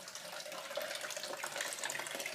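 Water trickling and seeping steadily through a cracked, leaking wall where water has pooled behind it, a continuous close hiss and splatter with no voices.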